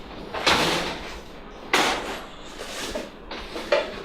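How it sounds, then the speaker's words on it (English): A door being pushed shut in a home, heard as a few close, dull knocks and thuds spread over several seconds, with no talking. "You want the door shut?"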